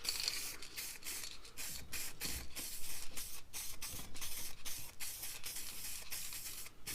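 Aerosol spray paint hisses in repeated short bursts while ride-on lawnmower parts get a light coat in a ventilated workshop, the bursts close, loud and separated by brief pauses.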